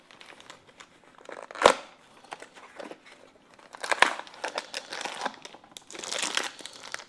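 A plastic bag holding a big tractor piston and wrist pin for a 1927 John Deere D is crinkled and handled up close, with sharp crackly bursts and rustling spread across several seconds and no talking.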